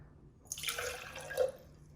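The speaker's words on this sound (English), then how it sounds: "Add the half cup water." Half a cup of water pours into a clean glass jar for a sourdough starter, a brief soft splashing trickle lasting about a second, close and alone.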